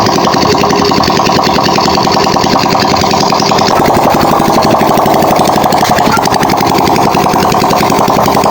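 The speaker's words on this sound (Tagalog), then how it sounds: "So pinainit ko lang muna, hindi ko nilagyan ng muffler muna" Honda XRM 125 motorcycle engine idling with no muffler fitted, a loud, raw, rapid mechanical putter running continuously up close, with a brief voice behind it.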